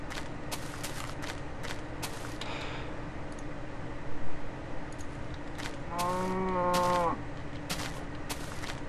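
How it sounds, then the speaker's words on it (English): A cow in the Minecraft video game lets out a single drawn-out moo, clear and fairly close, over a steady background hum and scattered small clicks, with no talking. "What, cow? What do you want?"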